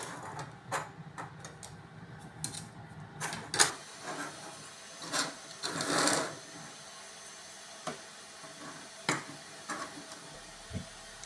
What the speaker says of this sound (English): We downloaded a 3D model from the internet and split it up into small pieces so we can print them one by one.